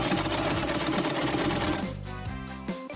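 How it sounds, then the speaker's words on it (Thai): A sewing machine stitching two plastic file pieces cut into seashell shapes, a fast, close mechanical clatter that slows into separate stitches near the end. "จากนั้นเย็บแฟ้มเปลือกหอย2แผ่นเข้าด้วยกัน"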